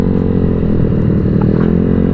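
Motorcycles grind steadily over loose lahar ash and sand in Zambales, a continuous loud engine drone with faint clattering from the rough ground and no talk.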